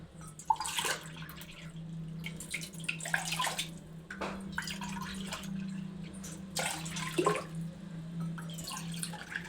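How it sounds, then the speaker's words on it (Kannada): Four and a half glasses of water measured and poured into a pan for heating in a home kitchen, heard as intermittent close splashing pours over a steady low hum, with no talk. "ನಾಲ್ಕೂವರೆ ಗ್ಲಾಸ್ ನೀರ ಬಿಸಿನೀರು ಕಾಯಕ್ಕೆ ಅಳತೆ ಮಾಡ್ಕೊಂಡು"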